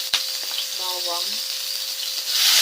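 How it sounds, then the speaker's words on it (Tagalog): Garlic frying in a pan for a vegetable soup, hot oil crackling and sizzling steadily with a brief clink at the start and the hiss swelling louder near the end. "Nag-add na ko ng bawang"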